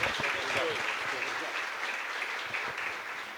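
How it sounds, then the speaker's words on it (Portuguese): Welcoming applause from an audience at an ADHONEP evening gathering as a speaker is introduced: a steady, dense wash of many hands clapping, heard from a moderate distance, with faint murmuring voices mixed in. "Vamos recebê-lo com carinhosamente um aplauso."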